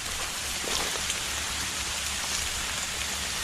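Steady rain falls outdoors in a Thai countryside setting during mushroom and vegetable foraging, a dense, even hiss of drops on surfaces that fills the whole stretch without a break and with no voices.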